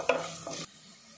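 Cinnamon and cashews fry in a pan for a chicken masala, giving a brief close sizzle with stirring scrapes that cut off abruptly partway through.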